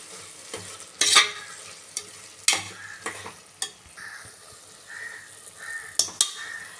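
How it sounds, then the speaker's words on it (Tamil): Turmeric, chilli powder, Kashmiri chilli powder and garam masala stirred into a pan for tomato rice, with scattered scraping strokes of the spoon over a soft sizzle and a few sharper clinks of utensil on metal. "மஞ்சப்பொடி, சில்லி மிளகாய்த்தூள், காஷ்மீரி மிளகாய்த்தூள், கரம் மசாலா போட்டு இது நல்லா ஒரு வாட்டி கலந்து விட்டுடலாம்"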